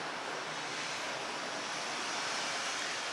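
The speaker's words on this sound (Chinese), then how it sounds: "海浪打过来。" A steady, even wash of surf-like noise plays from a projected beach display inside a city museum in Tainan, with no distinct wave breaks and no voices.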